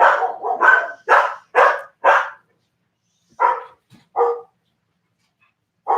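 Several loud, close dog barks in a quick burst, followed by a pause and a few more spaced-out barks.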